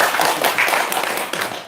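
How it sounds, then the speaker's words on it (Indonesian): A small group claps hands together in a brief, fairly close burst of uneven patters that fades slightly toward the end. "Tepuk tangan dong."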